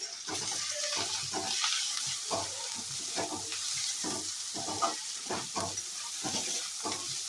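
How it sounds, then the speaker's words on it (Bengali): Onion fries in a pan of oil while cooking chicken, producing a steady nearby sizzle broken by repeated bursts of stirring and scraping, with a faint watery background and no talk. "এখানে পেঁয়াজটা ভাজা বসিয়ে দিয়েছি"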